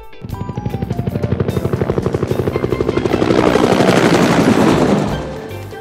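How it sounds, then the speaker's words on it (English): A helicopter's rotor thumps in a fast, steady rhythm, growing louder and rougher as it passes close by, then fading at the end. "Blue. Helicopter."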